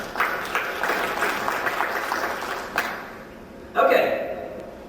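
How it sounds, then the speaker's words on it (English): Audience applause in a career-training classroom, a steady wash of clapping from a small group that carries on for several seconds with voices mixed in, then fades before a brief final swell. "Let's give it a round of applause."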